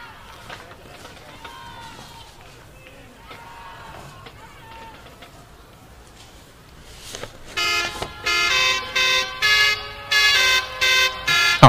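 Tractor horn at a carnival parade in Braunschweig plays a loud melodic run of separate toots, rising out of a crowd with talking in the first part of the clip.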